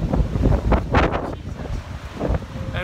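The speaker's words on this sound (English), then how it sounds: "It's very windy now." Strong wind buffets a microphone outdoors in wet weather, a series of loud, uneven gusting thumps and roars that rise and fall across the whole stretch.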